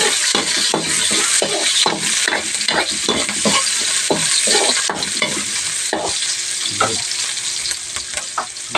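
Onion sautéing with browned garlic in a hot pan for tofu with ground pork, a steady loud sizzle broken by repeated sharp scrapes and stirs of a spatula throughout.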